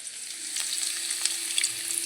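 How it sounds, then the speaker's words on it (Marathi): Spices tempering in hot oil for a fenugreek leaf curry, a continuous close sizzle with a few sharper crackles and spits, steady and even throughout, no voices. "आता मेथीच्या भाजीला फोडणी घेते मी"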